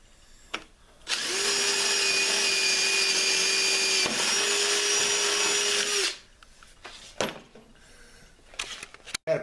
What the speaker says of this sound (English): I have to add a T-bolt here